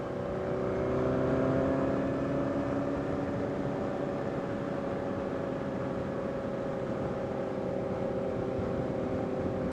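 Motorcycles ride along a road, including a Suzuki, as a continuous close engine drone with heavy rushing wind noise that stays steady throughout, with no talking.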